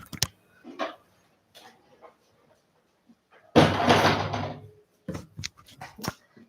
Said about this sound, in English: So we're also going to close this door.